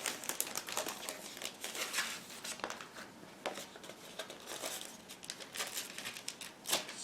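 A plastic bag holding a decal sheet crinkles and rustles in irregular bursts, loud and close, with sharp crackling spikes throughout and no voices.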